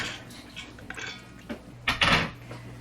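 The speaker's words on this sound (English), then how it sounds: "And now we're going to add in our beans, which have been drained." Drained beans tipped into a pot of water for baked beans, making a few soft clinks and scrapes and then a brief wet, splashy rush near the end.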